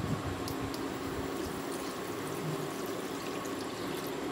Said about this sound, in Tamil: இதுல 1/2 கப் தண்ணி சேர்த்து வேக விட்டுக்கோங்க